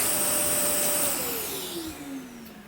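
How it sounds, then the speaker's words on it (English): A vacuum cleaner runs loud and close in a bedroom, its motor whine sliding downward in pitch as it powers down. "This vacuum, so let me just go unplug it."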